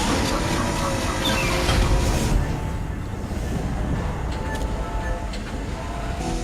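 A tram rolls along its track in Dead Space, a loud, continuous rumble and rattle that stays close and steady, easing slightly after the first couple of seconds.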